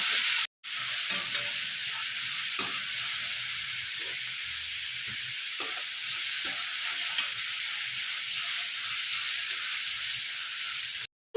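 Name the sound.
onions sautéing in a pan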